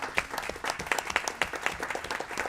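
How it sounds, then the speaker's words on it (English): A room of people clapping for teacher leaders at a board of education meeting, dense and even applause from a modest crowd, moderately loud with no voices over it. "About a round of applause for them again."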